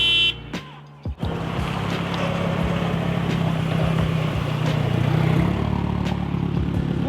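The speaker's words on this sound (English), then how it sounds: "Did you have little backfires and everything?" A loud car engine rumbles close by with a throaty ZSS Racing aftermarket exhaust, punctuated by sharp popping backfires over a steady drone.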